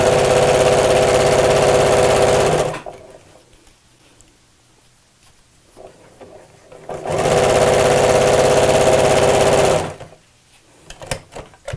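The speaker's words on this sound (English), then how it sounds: "just sew straight down the centre of the zip tape, so not too close to the teeth, or the coil" A sewing machine stitches zip tape onto a denim panel in two loud, steady bursts of rapid mechanical whirring, each a few seconds long, separated by quiet pauses with faint handling noises.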